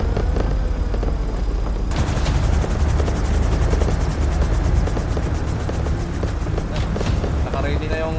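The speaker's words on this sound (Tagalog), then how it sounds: "Naka-ready na yung helicopter nyo." A helicopter in GTA 5 roleplay thumps loudly and continuously with rapid rotor chopping, joined by bursts of gunfire, while voices talk over it.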